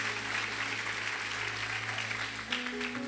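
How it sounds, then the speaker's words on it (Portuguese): A church congregation claps together in steady, dense applause that continues throughout. "Pode aplaudir para ela, vai."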